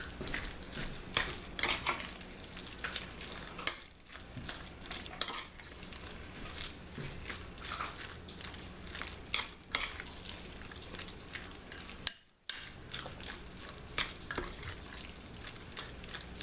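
Crab mac and cheese with Maryland crab meat being stirred in a pan: steady scraping of a utensil against metal, clinks and faint sizzling, close and continuous, with a brief quiet gap midway.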